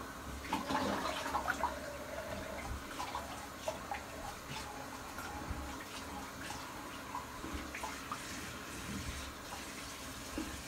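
Running water from a bathroom tap rinsing a face after a shave with a Gillette Super Speed safety razor, a quiet continuous splashing flow with small hand splashes, faint and close, with no talking.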